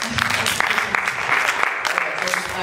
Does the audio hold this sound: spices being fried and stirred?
no